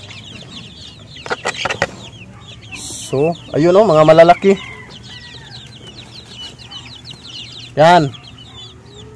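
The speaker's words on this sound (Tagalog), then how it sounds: "Ang mga uod na ito, subukan nating ibigay sa ating mga manok." Backyard chickens clucking and calling in bursts while being fed maggots, with a louder cluster of calls near the middle and another near the end; a person talks briefly over them amid faint outdoor bird chatter.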